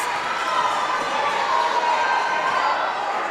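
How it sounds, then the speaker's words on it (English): A college basketball crowd roars and cheers during a free throw, a steady, dense wall of noise throughout, with a commentator talking over it. "And this crowd encouraging Ade to miss"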